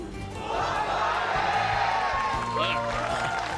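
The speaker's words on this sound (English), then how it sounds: "Huge cheers from the crowd, from an absolutely packed out audience." A packed arena audience at the 2018 GSL Season 1 StarCraft II esports finals roars and cheers in a continuous wash of crowd noise, with voices and some tonal sound mixed in.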